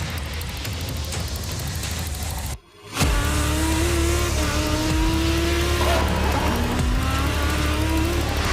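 Lamborghini Super Trofeo race car in an esports sim race at Suzuka, engine droning loud and close with rising gear-by-gear revs, a brief cut near the third second, then steady acceleration pulls and shifts.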